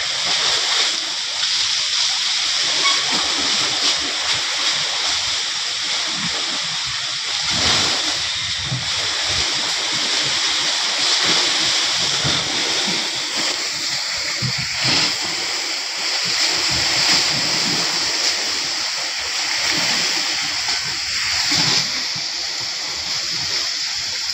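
Strong sea waves churning and breaking near the shore, a continuous loud wash of surf and splashing close by, with no voices over it.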